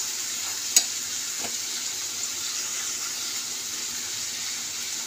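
Spinach and eggplant frying in a hot pan, with a steady, close sizzle running throughout, a couple of brief clinks of stirring near the start, and no talk.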